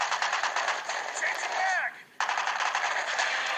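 Rapid automatic gunfire from Call of Duty Black Ops Declassified, loud and sustained, breaking off briefly for about a fifth of a second before the bursts resume, with a ricochet-like whine partway through.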